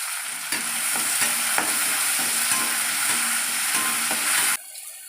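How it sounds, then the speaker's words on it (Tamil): Tomatoes go into a hot pan and fry, a loud, bright, continuous sizzle close by, punctuated by several sharp spoon scrapes and knocks, then cutting off abruptly to quieter hiss. "தக்காளி சேர்க்குறேன்"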